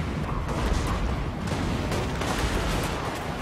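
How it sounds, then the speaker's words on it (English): Dense, continuous rattle of massed gunfire and artillery in a Warhammer Total War multiplayer battle with dwarf forces on a hill, loud and overlapping throughout with no clear gaps. "I actually get to see gunfire for once"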